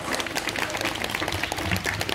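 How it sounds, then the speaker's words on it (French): A congregation at an outdoor mass claps loudly and continuously, a dense rattle of many hands close by with no pauses. "vous applaudissez très fort"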